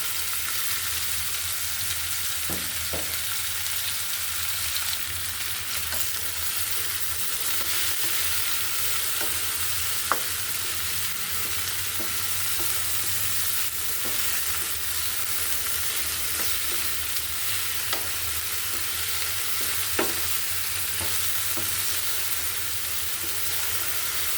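Sliced okra frying in a pan, a steady bed of sizzling hiss that runs throughout, broken by occasional faint clicks of a spatula, with no one speaking.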